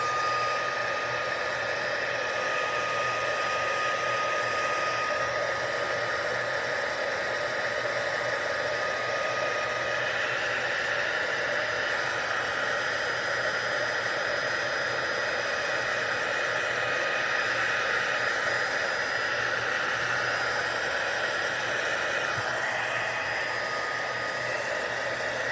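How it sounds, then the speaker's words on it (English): Craft heat tool blowing steadily on its high setting to dry stamped ink on vellum cardstock, a constant loud broadband whoosh running unbroken throughout with no talk. "I'm going to quickly dry this with my heat tool on the high setting."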